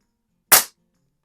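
A single sharp crack from a PCP target air pistol, a Hammerli AP-20 or Air Venturi Comp10, fired outdoors, brief and loud, then quick decay into silence.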